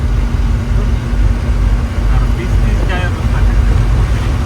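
A car drives along a road toward Goa, its engine and tyre rumble forming a steady, close, low drone with road noise throughout and no speech.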